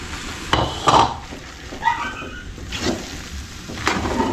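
Vegetables are tossed into a frying pan of sizzling noodles, with a steady fry hiss under several separate clanks and scrapes of a utensil against the pan.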